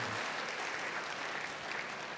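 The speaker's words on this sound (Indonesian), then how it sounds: "Beri tepuk tangan yang baik bagi engkau yang percaya." Church congregation claps together in a continuous, even wash of applause, many hands at moderate distance sustained throughout without speech.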